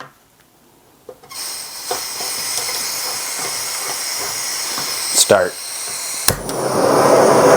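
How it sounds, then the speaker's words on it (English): A JetBoil Flash camping gas stove burner catches with a brief pop and then settles into a steady, loud broadband roar, preceded by quieter hissing and a spoken word. "I'm gonna start the timer, ignite it, and then we're gonna see how fast this boils"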